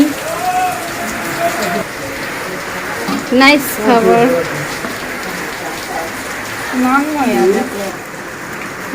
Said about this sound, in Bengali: ঝিরি ঝিরি বৃষ্টি